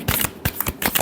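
A final brief shuffle of a tarot deck, made of three or four quick, close papery riffles in about a second, with no voices.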